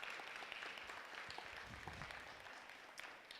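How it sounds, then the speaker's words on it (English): A panel-discussion audience applauds its guests with soft, steady clapping that sounds distant and thin, fading slightly toward the end. "let's give them another round of applause"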